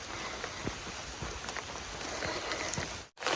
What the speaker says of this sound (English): It's raining hard enough now for that.